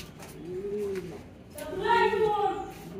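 A caged pigeon coos softly, a hen that fell ill after laying an egg; a low, rolling coo swells and fades, then a second louder, longer coo follows, close to the microphone.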